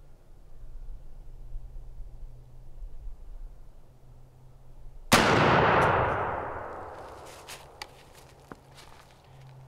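A single loud, close blast from a short-stocked 20 gauge shotgun loaded with TSS #9 shot, fired outdoors at a 40-yard pattern test, booms after a quiet stretch and decays into a long rolling echo, followed by faint clicks.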